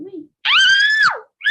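A child lets out one loud, sustained scream at close range, rising sharply and then trailing off, with short bits of voice just before and after.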